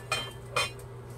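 Metal pots and lids clank twice as a covered pan goes into a 450-degree oven while mashed potatoes and an Angus beef roast are cooked, two short clinks over a steady kitchen hum.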